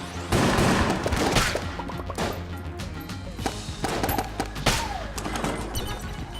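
Dense rapid gunfire from an inaccurate gun in the video game Enter the Gungeon, loud and continuous bursts of shots filling the whole stretch with game effects layered in, no talk.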